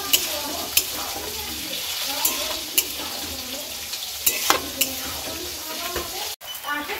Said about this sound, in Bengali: পাস্তা দিয়ে একটু নাড়াচাড়া করি ভালো করে।